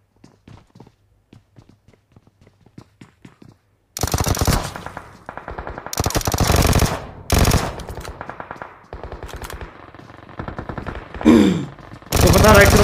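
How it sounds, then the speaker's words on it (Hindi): A Vector submachine gun in a video game fires in rapid, loud bursts after a quiet stretch of soft footsteps, with several sustained volleys and short pauses between them. "फायरिंग रेट काफी हाई है। वेक्टर से ही चालू है।"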